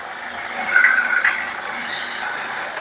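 A blender running on high while blending hummus, a steady loud whirring drone with a brief grinding swell early on, then an even, continuous roar.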